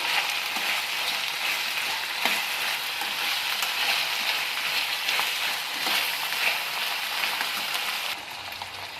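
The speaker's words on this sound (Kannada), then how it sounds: "ಬದನೆಕಾಯಿ ಹಾಕ್ಕೊಂಡು ಚೆನ್ನಾಗಿ ಕಲಿಸ್ಕೊಳ್ಳೋಣ" Eggplant pieces fry and sizzle loudly in a pan over medium-high gas flame, a dense continuous crackle with occasional stirring scrapes as the vegetables are mixed for vangi bath.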